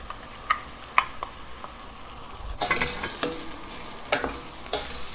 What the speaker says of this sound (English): Next I'm going to add the tomato pieces.